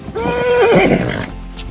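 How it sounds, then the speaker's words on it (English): A Norwegian fjord horse, a mare, gives one loud, close whinny that rises and then trails off into a shaky descending neigh, heard on its own. "she's actually a Norwegian fjord horse"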